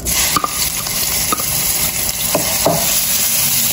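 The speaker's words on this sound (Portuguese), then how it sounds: "Agora a gente entra com a cebola e o alho." Onion and garlic sauté in hot olive oil in a pan, giving a steady, close sizzle with a few light stirring scrapes and clinks. No one speaks.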